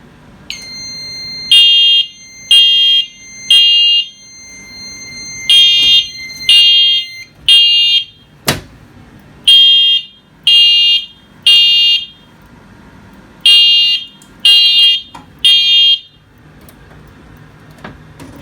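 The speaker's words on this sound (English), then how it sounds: "we're going to start with the Edwards 270S-SPO. And the Genesis is going to sound." An Edwards Genesis fire alarm sounds loud, close piercing tones in repeating groups of three evenly spaced beeps with pauses between groups during a system test, and a sharp click comes partway through.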